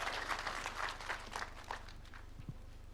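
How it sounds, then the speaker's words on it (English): Audience clapping for a guest at the launch of the Kenya Power Foundation, a dense wash of many hands at steady moderate loudness, with a low hum underneath and a faint voice near the end. "A better hand clap for Judy"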